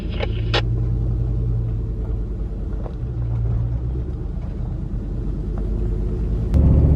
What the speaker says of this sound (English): That's a damn CF moto.